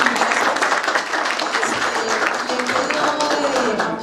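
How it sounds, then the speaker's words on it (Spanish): Audience at a lecture applauding, a thick, close burst of clapping that holds steady for a few seconds with some voices mixed in. "Yo creo que se merece un aplauso un poco más nutrido."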